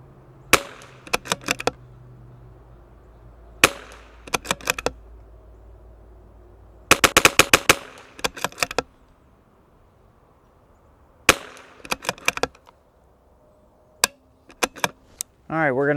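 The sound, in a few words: CZ 457 rifle with Lilja barrel firing test groups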